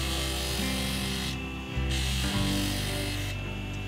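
Steady abrasive scraping of sanding against a coconut shell, continuous and close, with a brief pause and the rubbing resuming in long strokes.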